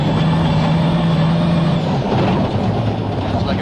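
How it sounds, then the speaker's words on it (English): A rear-wheel drive rally car engine drones steadily in a loud, rumbling mix on a gravel stage of the Acropolis Rally, its tone shifting midway as the car passes. "Sounds like a rear-wheel drive car."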